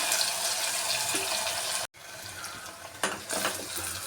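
Sliced onions and green chillies sizzle in hot oil in a pan, making a steady close frying hiss with a brief stirring scrape partway through and no talking.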